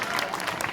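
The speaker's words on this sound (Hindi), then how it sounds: "आप तालियां बजाते रहे ताकि बच्चे की हौसला अफजाई हो।" Audience applause at a silver jubilee celebration's comic poetry recital: a brief burst of dense, steady clapping from a crowd.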